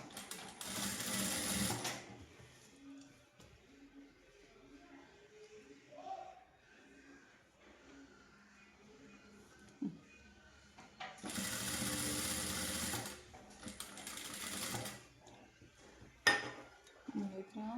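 Sewing machine stitching a blouse for a three-year-old child, running in two loud bursts of steady whirring at the start and near the end, with quiet talk and light handling in between.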